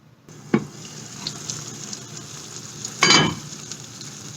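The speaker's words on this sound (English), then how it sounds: "I'm just going to simmer this in this pan for about 10 minutes." Mutton simmering in a pan on a gas stove at low-medium heat, a soft steady sizzle with a couple of louder clatters of stirring, close and with no talk.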